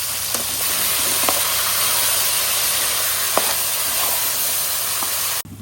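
Sliced onions sauté in a hot pan for fish biriyani, a loud, continuous close-up sizzle and hiss with a few faint clinks, ending suddenly.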